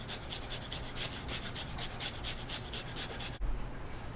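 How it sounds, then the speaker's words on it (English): Garlic cloves rasped across a fine zester, about a dozen quick, even scraping strokes in a steady rhythm, close and moderately loud, then a short thump as the strokes stop. "I'm using a zester because I want nice and small and grate. Do the same thing with the garlic."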